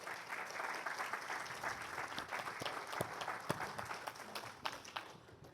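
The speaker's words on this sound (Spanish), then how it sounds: "Vamos a dar un aplauso al Señor" A church congregation claps together in applause during a service, a fairly quiet and moderately dense patter with a few sharper individual claps standing out before it tapers off at the end.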